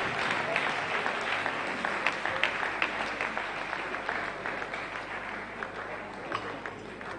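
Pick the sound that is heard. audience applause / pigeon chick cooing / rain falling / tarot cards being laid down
audience applause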